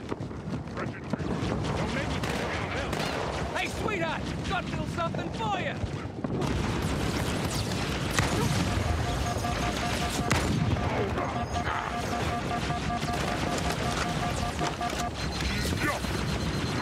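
Gunfire rattles through a Halo 2 Anniversary firefight, dense bursts over a constant roar of game noise and wind, with someone talking loudly over the shooting throughout.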